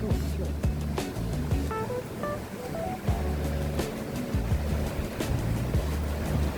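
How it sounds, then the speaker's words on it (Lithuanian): Water rushes through a sluice in a steady broad roar, with a low tonal hum and a few sharp knocks running through it. "Čia šliuzas yra, tie pakreipia vandenį, varo per apačią."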